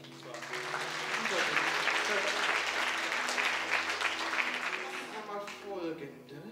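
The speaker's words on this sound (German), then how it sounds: "Und dann kann man mal klatschen" An audience at a hypnosis show claps together, a dense burst of applause that swells and then fades, with voices speaking underneath.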